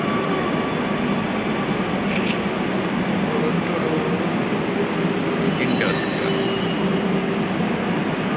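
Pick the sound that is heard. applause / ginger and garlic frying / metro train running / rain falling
metro train running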